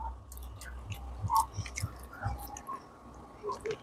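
Quiet, close chewing of chicken momos during an eating challenge, with squishy, moist mastication sounds in an uneven rhythm under a low background hum.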